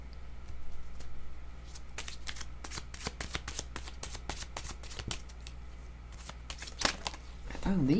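Tarot cards being shuffled by hand, a run of quick crisp riffling flicks and slaps close up, with a couple of cards dropping loose toward the end; a quiet background hum underneath.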